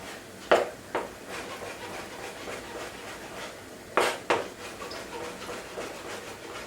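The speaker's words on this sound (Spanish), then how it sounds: "con la aceituna vamos a cortar pues igual, en trocitos" A knife chops mild anchovy-stuffed black olives into small pieces on a board, producing four crisp knocks in two quick pairs, separated by a few seconds of quiet room tone.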